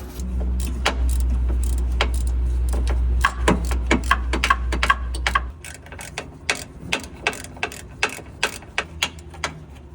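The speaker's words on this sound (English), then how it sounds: "So we're going to take this one off first." Metal clicks of a 9mm socket wrench ratcheting on a heat shield bolt of a Honda Vamos turbo, a steady train of sharp close ticks, first over a low engine-bay rumble and then alone.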